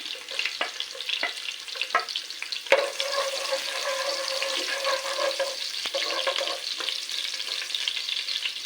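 Garlic frying with ginger in hot oil for a bitter gourd dish, a steady close sizzle with crackles and spatters, one sharp clack as something is dropped or stirred, moderate loudness and no voices.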